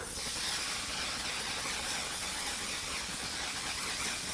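A makeup setting spray hisses out in one long, loud, continuous burst of fine mist, close up and alone.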